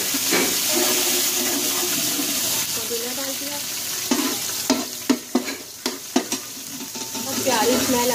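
Garlic ginger paste and green chillies frying and sizzling in a pan while being stirred, a steady close hiss with scraping clinks and spoon knocks toward the end, no one speaking.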